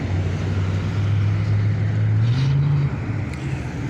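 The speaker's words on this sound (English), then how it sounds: "Sounds like it's got a V8 in it." A Chevrolet S10 truck fitted with a V8 engine rolls by at a spring rod run, a steady low engine rumble that rises slightly in pitch midway, fairly close and continuous with no talk.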